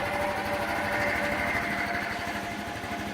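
A Honda Elite 125 or 110 scooter engine idles with its idle adjusted slightly down, a steady, close, buzzing putter with an even rapid pulse and no other sounds.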